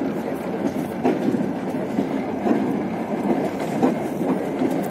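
A train between Ulan Bator, Mongolia and Ulan Ude, Buryatia rolls steadily along the tracks, a continuous rumbling rattle with soft rhythmic clacks of the wheels and no voices.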